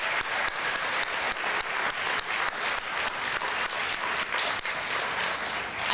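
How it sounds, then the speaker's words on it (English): A conference crowd applauds a keynote speaker warmly and steadily, dense clapping throughout with no break and no voices. "Let's give one more round of applause, please"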